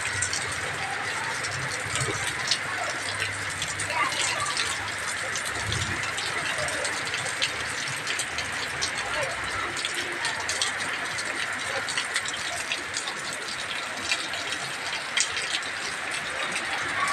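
Heavy monsoon rain pours down with water running on the road, a steady broad hiss lasting the whole stretch at even loudness, with a faint low rumble and scattered drips beneath.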